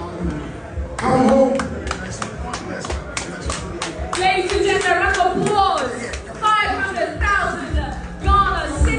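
An audience claps in bursts of sharp, uneven hand claps at a live event, mixed with cheering and a voice speaking over the crowd.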